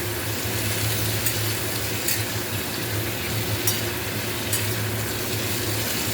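Mushrooms being stirred in a frying pan, a steady close sizzle with a low hum underneath and occasional brief scraping taps from the stirring.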